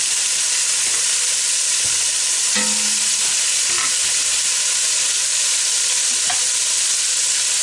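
Onions and tomatoes cooking in a pot as the base for stewed chicken, a loud continuous sizzling hiss with a few faint scrapes and clinks, close.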